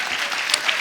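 Studio audience at a comedy talk show breaking into brief, dense applause, a steady wash of many hands clapping close and loud.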